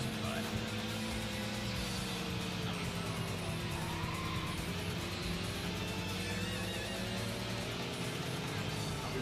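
A turbocharged V30G race car roars through a race in the video game Racing Lagoon, its engine droning steadily with shifting pitch and occasional tire squeal, constant and loud throughout.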